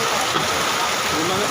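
Rain falls steadily at the Mt. Samat battlefield in Bataan, a dense continuous hiss of drops close by.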